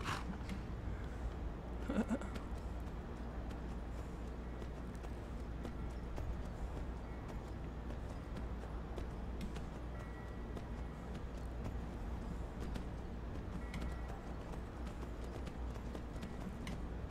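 Horse hooves clip-clop steadily in the video game Skyrim over a continuous ambient game backdrop, with a brief louder bump near the start and no talking.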